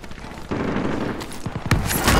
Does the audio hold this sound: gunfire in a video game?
yes